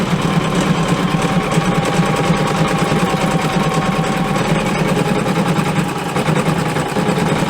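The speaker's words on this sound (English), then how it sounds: "this triple stitch is going to be what forms the top and the place that we're going to trim along" An embroidery machine sews a triple stitch outline on a vinyl in-the-hoop glasses holder, a loud, continuous rapid mechanical chatter with steady motor hum throughout.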